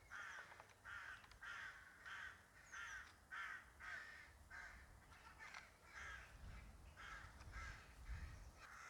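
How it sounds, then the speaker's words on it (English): Several crows caw loudly and repeatedly in harsh, rhythmic bursts, close by at a church porch in Lindsell, Essex, over a low background rumble. "I'm not sure if you can hear these very noisy crows"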